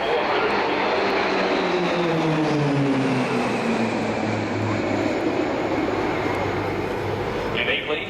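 RAAF Roulettes aerobatic aircraft at the Avalon air show roar steadily overhead, a loud continuous propeller-engine drone with a slowly falling pitch as the planes pass and pull away, filling the whole stretch.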